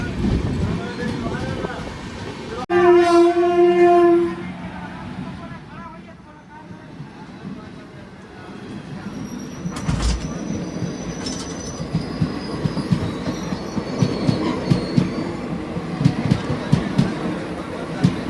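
A passenger express train pulls away at a station. Its wheels squeal high and steady for a few seconds, then give way to continuous rumbling and clattering that builds in intensity, with faint voices in the background.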